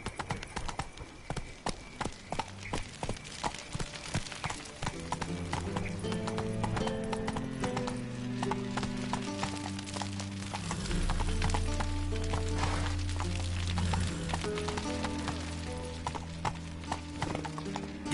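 Horse hooves clip-clopping in The Witcher III, a quick rhythmic patter of gallop beats that runs throughout under a swelling orchestral music score.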